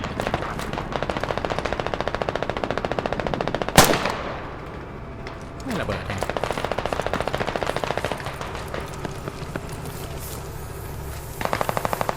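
Rapid bursts of machine gun fire crackle through a battle in the military shooter game Squad, loud and sustained, broken by one heavy blast and a short lull before the firing resumes.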